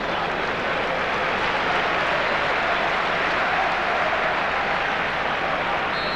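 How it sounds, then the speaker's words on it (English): A football stadium crowd at a 1992-93 Lazio versus Inter match applauds in a steady, broad wash of clapping that holds evenly throughout, with no talk on top. "Getting a round of applause from the crowd."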